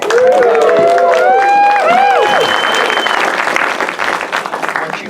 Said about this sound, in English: I called your attention with what we call the union clap